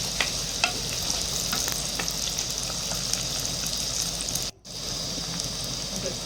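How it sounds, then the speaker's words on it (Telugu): Tomatoes and small onions fry in a pan, a steady close sizzle with faint stirring clicks, cutting out briefly near the end before resuming. "టమాటోలు యాడ్ చేసి ఫ్రై చేసుకున్నాము"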